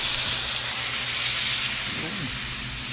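A glass of water poured into a pan of frying wild dove meat sets off a loud, steady hiss of steam and sizzle, close and continuous.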